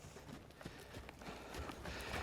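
A horse trotting during stop training gives off soft, quick hoof beats in a regular rhythm, faint and somewhat distant, with no voices.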